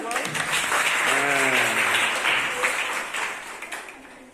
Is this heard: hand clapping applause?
yes